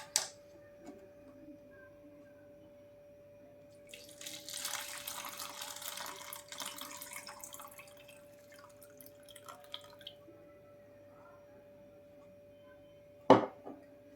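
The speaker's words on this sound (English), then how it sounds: "And we'll pour some water in it." Water pours into a glass of soil in a home science experiment, a soft splashing stream lasting several seconds amid quiet surroundings, then a sharp knock near the end.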